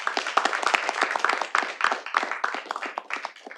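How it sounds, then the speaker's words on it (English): A modest round of hand claps from attendees at a city board of directors meeting, sparse and irregular with individual claps audible, no talk over it. "I want to give you a round of applause"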